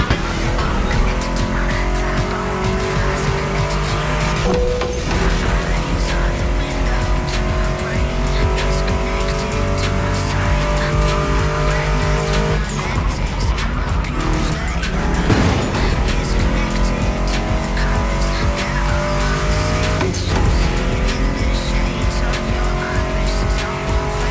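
A Ford Mustang GT muscle car in the racing game The Crew Motorfest roars loudly and continuously, its engine revving through gear changes with bursts of tire squeal.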